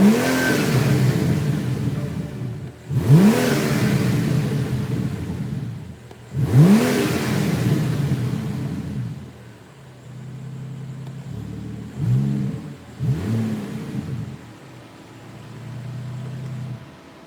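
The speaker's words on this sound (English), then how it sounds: "the sound is quite nice. It is an M Performance exhaust" A BMW M760Li fitted with an M Performance exhaust revs in two strong, sweeping bursts and then two shorter blips, with a steady idle burbling between them, loud and close.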